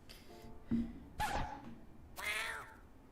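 A cartoonish video game cat lets out a few short meows and a drawn-out yowl, spaced apart and fairly quiet, with no talking over them.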